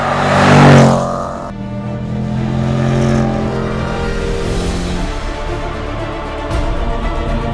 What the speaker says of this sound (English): from the bottom of the rev range all the way up to the red line, the way this thing builds speed is nothing short of devastating